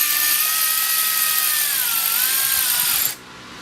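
A power tool whirs loudly and continuously for about three seconds while driving a bolt on a Chevy Cruze serpentine belt tensioner, its pitch dipping slightly under load, then cuts off abruptly.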